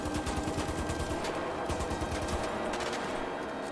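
Rapid gunfire bursts crackle through a chaotic GTA 5 shootout, a dense run of quick shots over a steady background din.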